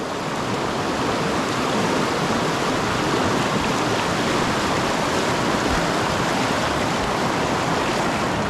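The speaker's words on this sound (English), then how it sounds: "That was some good waves right there." Whitewater on the Upper South Branch river in New Hampshire, met while kayaking, surges as a loud, continuous broadband roar of churning rapids and waves, close and steady throughout with no voices.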